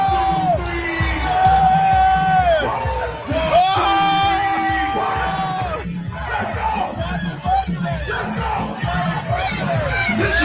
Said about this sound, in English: Now you see the crowd react.